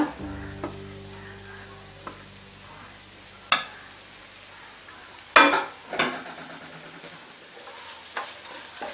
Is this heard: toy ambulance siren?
no